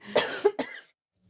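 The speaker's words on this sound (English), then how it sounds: "So sorry for all the coughing." Two or three short, close coughs in quick succession, followed by silence.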